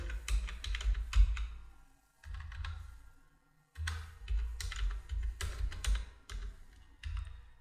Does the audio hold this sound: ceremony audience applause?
no